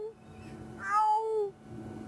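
A cat gives one drawn-out meow, clear and fairly close, rising and then falling over a low steady hum in a quiet room.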